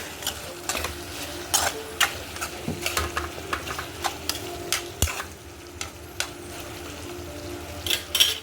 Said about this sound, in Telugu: చికెన్ ఒకసారి తిప్పుకుందాం